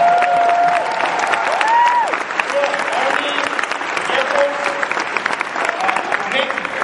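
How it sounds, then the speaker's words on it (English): Conference crowd at TeaCon 2011 gives a round of applause for military veterans, steady dense clapping with scattered cheers and whoops over it, continuing without letup. "give them a round of applause"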